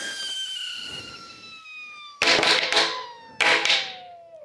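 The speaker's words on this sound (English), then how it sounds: "I want that big shot of air to ideally pop this tyre onto the rim." A Panaracer Gravelking X1 R gravel bicycle tyre is seated with a shot of air from an air cylinder: a falling, whistling hiss runs throughout, broken by two loud, sharp bursts as the bead snaps onto the rim.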